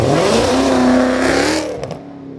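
A 2019 Ram truck engine revs hard on a dyno, holding a loud, rising mechanical tone before cutting off and winding down, followed by a few faint knocks.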